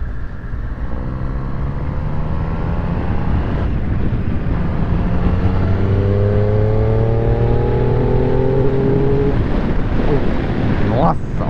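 A Triumph Street Triple 765 motorcycle is ridden, its engine note climbing repeatedly in pitch through the gears beneath heavy, constant wind rush, with no one speaking.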